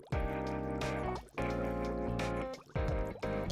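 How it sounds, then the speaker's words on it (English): Water bubbles and gurgles in the Goddess of Victory: NIKKE video game, in three loud, close bursts of liquid burbling separated by short breaks, with no talking. "Is that the sound of water flowing?"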